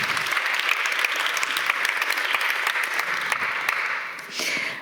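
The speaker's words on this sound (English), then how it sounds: "everybody, let's make some noise for Musa, for Team Culture." An audience applauds steadily at an academic symposium, a dense, bright wash of clapping that carries on for several seconds and fades slightly near the end.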